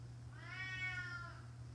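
A house cat gives one drawn-out, clear meow in a quiet kitchen over a low steady hum.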